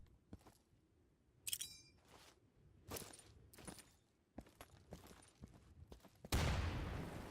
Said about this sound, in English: Roll a grenade under that wooden fence. Try to get it down that hole and don't blow us up.